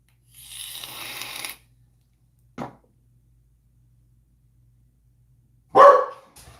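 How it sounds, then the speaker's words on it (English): A dog barks indoors in a few separate outbursts: a longer noisy stretch early on, a short bark midway and a louder burst near the end, with silence in between. "I can't do this with the dog barking."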